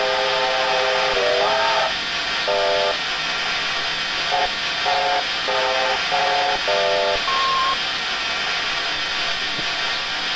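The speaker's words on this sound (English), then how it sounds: "So the whistle will play differently for however long you pull it." The steam whistle of a New Zealand Kb 4-8-4 locomotive in Train Simulator Classic gives a series of short, chord-like toots of varying length and pitch, ending on a higher note, over a loud, constant steam hiss.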